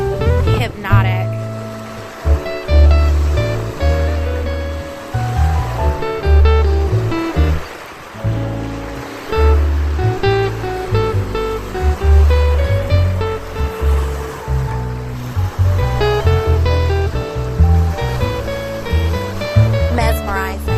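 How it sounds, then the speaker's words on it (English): Water waves washing against the shore in West Point, Georgia, a continuous rolling churn with rising and falling surges, fairly loud and close, heard with no voices over it. "Listening to these waves is so hypnotic."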